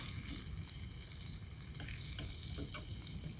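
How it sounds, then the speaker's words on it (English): Egg and dehydrated hash brown potatoes fry outdoors in a pan, giving a steady, close crackling sizzle with a few soft scrapes, and no voices. "So, egg is getting cooked. Hash brown is pretty much there."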